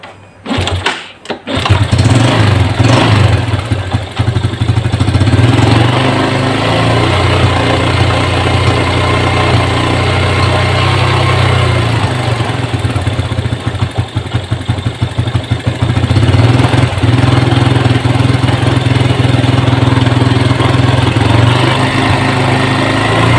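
A Yamaha Jupiter Z1 motorcycle engine is cranked and catches, then runs in a loud, uneven idle that keeps threatening to stall, close by with no talk.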